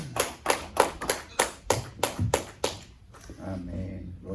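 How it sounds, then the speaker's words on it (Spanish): A church congregation claps together in a steady rhythmic beat for about three seconds, fairly close, then the clapping fades into murmuring voices and talk. "Vamos a darle un fuerte aplauso al Señor"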